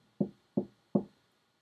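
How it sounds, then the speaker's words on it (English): Three gentle knocks on a door sound in an even, unhurried rhythm, each a soft, dull thud that fades quickly, with quiet in between. "When he heard the knock a third time, he noticed that it was still gentle."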